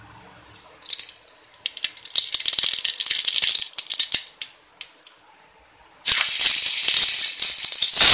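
A mixer grinder whirs and rattles in loud bursts as it grinds cooled tomato chutney, with short pulses and pauses before a final sustained run.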